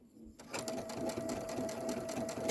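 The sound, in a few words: Baby Lock sewing machine sewing a locking stitch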